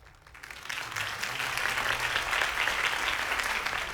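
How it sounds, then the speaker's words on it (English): Steady crowd applause after a campaign speech in a Batman Telltale video game, swelling in quickly and holding as loud, continuous clapping. "If only Mr. Wayne, my campaign's largest backer, could have heard that applause"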